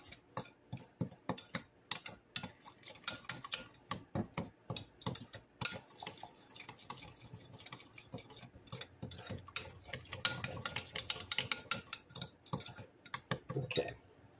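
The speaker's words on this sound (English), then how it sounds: "Stir that really, really well." A mixture for cinnamon rolls stirred vigorously in a bowl, producing rapid, close, rhythmic clicking and scraping strokes that continue steadily throughout.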